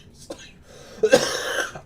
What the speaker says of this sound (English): shouldn't have tried to fake a cough.